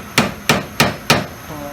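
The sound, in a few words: hammering a punch to stake the Yamaha Rhino axle nut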